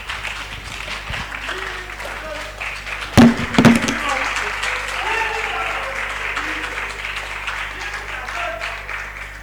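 Audience at a pitch competition finals applauding, a broad wash of clapping filling the room while people talk over it, with a few louder close claps partway through.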